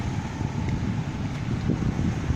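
Steady wind blowing on a hot, shaded afternoon in Cambodia, a continuous low rumbling rush with gusty buffeting against the microphone, fairly loud and unbroken, with no voices over it.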